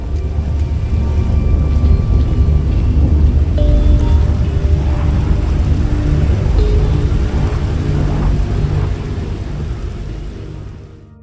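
Stormy weather on Mount Chiliad in a GTA video game: steady heavy rain with low rumbling thunder, loud and continuous throughout, fading slightly at the end, no voices.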